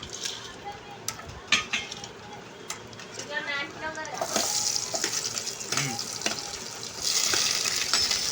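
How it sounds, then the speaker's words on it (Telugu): Vegetables fry in hot oil in a pan for a veg pulao, a steady sizzle with occasional stirring clatter, rising louder in the second half, while a person talks over it. "నేను ఇప్పుడు ఇవన్నీ ఫ్రై చేసేసుకుంటున్నాను"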